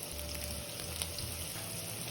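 Onion fritters re-fry briefly in very hot oil over high heat, giving a steady, dense crackling sizzle with no pauses and no voices.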